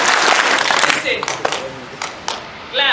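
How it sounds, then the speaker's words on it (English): A roomful of hand clapping during a music workshop, a dense burst at the start that thins into scattered single claps, with a voice speaking between them. "Clap."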